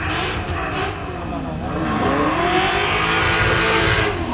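A V8 Supercar race car engine roars hard under acceleration in second gear at a sprint event, a dense loud rising snarl, with a commentator's voice partly buried in the noise.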